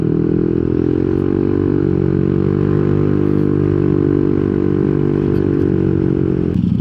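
Yamaha Nmax scooter fitted with a 4S1M Street Core V3 aftermarket muffler on a 28 mm pipe, accelerating under load: a steady, loud close-up engine drone with a harmonic exhaust tone that stays fairly even, then drops near the end.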